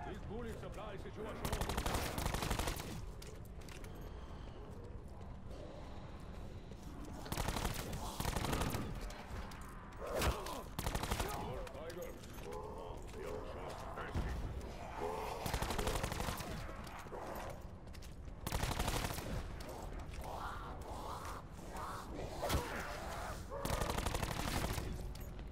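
Rapid gunfire from guns in a video game, with repeated bursts of automatic fire and single shots crowding the whole stretch, loud and close, with a voice talking in places over the shooting.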